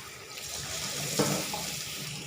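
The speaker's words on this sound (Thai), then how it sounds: "ล้างให้สะอาดแล้วค่อยเอาเตรียมไว้ไปผัดเนาะ" Tap water runs steadily over cooking herbs being washed in a kitchen, a soft continuous splashing rush close by with no talking.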